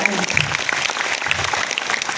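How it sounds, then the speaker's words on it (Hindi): Loud, dense applause from an audience at a wellness seminar, a continuous roar of many hands clapping close by with faint cheering mixed in. "एक बार खुद के लिए जोरदार ताली"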